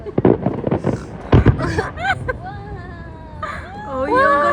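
Fireworks from Spain's display at a pyromusical competition in the Philippines, with several sharp bangs and bursts early on and whistling, screeching streaks later, while people talk and exclaim close by.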